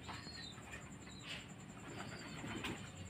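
Pigeons coo softly and steadily at a distance, a low continuous murmur of calls with faint fluttering, no talking.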